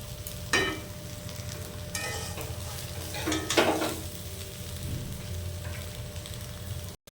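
Steady oil sizzle of green plantain frying in a pan, with occasional scraping stirs and clinks over a constant hiss.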